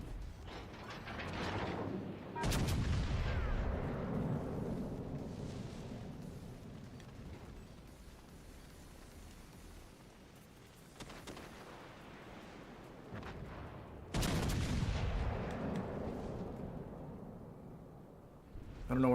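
Heavy naval guns fire in a World of Warships: Legends battle, with deep booming salvos around 2.5 and 14 seconds, each followed by a long rumbling decay, amid mechanical game noise.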